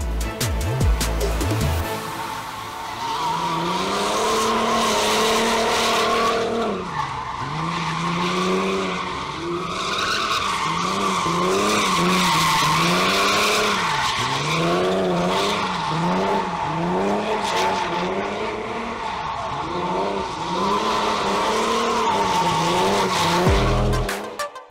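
A drift car slides through repeated skids at a drifting school, its engine revving hard and rising and falling under long, wavering tire squeals, loud and close for the whole stretch with no talking.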